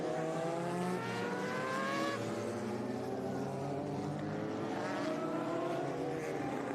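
A Silk Cup Jaguar race car howls past on a circuit at a vintage racing reunion, its engine note rising and then falling away as it passes at steady, moderate loudness, with no voices over it.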